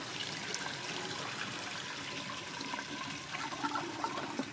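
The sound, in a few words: water draining through a tub drain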